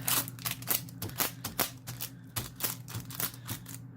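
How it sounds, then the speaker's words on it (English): Tape peeling off a resin-coated piece during craft work on a handmade flower storage box, heard as a run of quick, sharp crackling rips in a loose rhythm, close and clear, with no talk. "Now I'll just take some tape because I think some of this is, yes, he mixed with some resin, so I have to peel it off."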